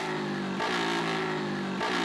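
A Yamaha Fazer 250 motorcycle revs on a quiet residential street, loud and close, its engine note rising in two distinct surges over a steady idle.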